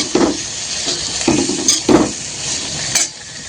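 Coriander and curry leaves sauté in a hot pan of spices for a Marathi-style tur pulao, with a steady sizzle broken by several loud stirring scrapes and clinks of a spoon against the pan.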